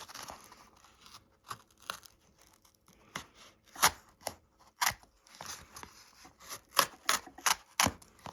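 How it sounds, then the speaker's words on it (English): A Kershaw Cinder Copper pocketknife slicing through cardboard, a series of sharp ripping, scraping strokes in an uneven rhythm, close and fairly quiet between cuts. "let's just cut some cardboard"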